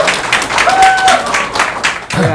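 Applause from an audience welcoming a guest lecturer at a business seminar: a short burst of clapping that is fairly loud and close, mixed with a faint tonal ring.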